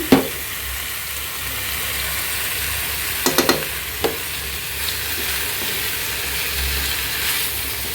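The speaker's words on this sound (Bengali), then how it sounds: "প্যালের ভিতরে পেঁয়াজটা ভালো করে লাল করে নিলাম তা এখন আমি এই যে দিয়ে দিব কাটা আলু পটল" Cut potatoes and pointed gourd hit a pan of browned onions, raising a steady close sizzle broken by a few sharp spatula clicks and knocks near the start and middle.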